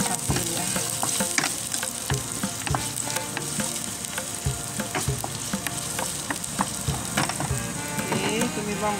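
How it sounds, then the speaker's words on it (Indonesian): Chopped onions sizzle and crackle in hot oil as they are stir-fried for a beef dalca, with a dense steady hiss and scattered spatter and scraping sounds, close and without talking. "so kita tumis bawang besar"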